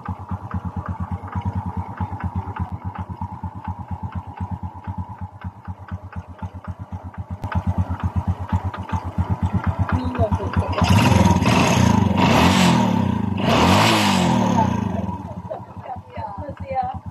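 After side bearing and connecting rod replacement, a Honda XRM 125 carbureted motorcycle engine idles with a steady ticking beat, then revs up loudly twice before settling back down.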